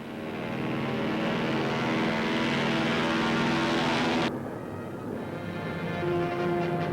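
WWII bomber squadron in flight, a dense steady drone of multiple propeller engines heard from aboard a bomber, loud and continuous, dipping briefly in brightness partway through before holding on.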